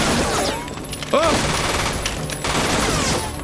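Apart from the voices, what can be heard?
gunfire in the film Battle Royale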